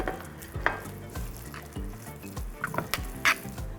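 Fatty pork mince sizzles and spits in a hot pan, with repeated stirring scrapes and soft clatter of a utensil against the pan across the whole stretch, close and fairly loud, with no talking.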